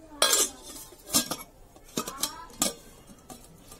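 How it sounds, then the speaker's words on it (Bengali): A metal lid set onto a cooking pot holding a meat and potato curry, giving several sharp, close clinks and rattles with quiet gaps between them. "এবার আমি ঢাকনা দিয়ে রেখে দেব।"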